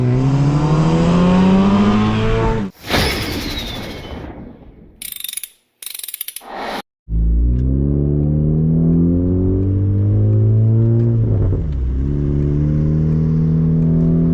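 A turbocharged Honda Civic with an R18 engine revs hard and climbs through gears, with brief cut-outs and a whooshing shift before accelerating loudly again.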